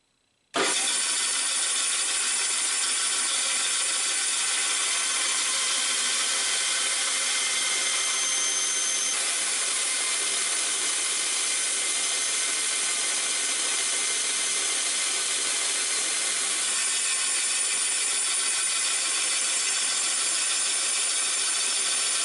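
A steady, continuous power-tool whine and grinding rasp as the corner of a wooden grip is trimmed freehand on a short Ontario Knife Co chef's knife being restored, loud and unbroken after a sudden start.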